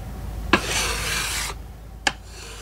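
Gesso layers of natural chalk on a Spanish polychrome sculpture are smoothed with one long, steady rasping rub, followed by a brief second scrape, close and alone.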